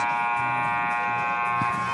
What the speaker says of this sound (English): As the buzzer sounds, getting ready for the second half here in Hayes Gymnasium